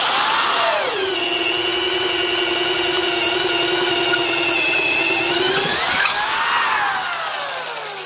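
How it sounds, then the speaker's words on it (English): A DeWalt DCD996 cordless drill bores a 1-inch auger hole through very dry 4x8 pine, its motor whining high and steady under load for several seconds before pitch shifts as the bit breaks through. "We'll do one more hole here. Once again, 1-inch auger through very dry"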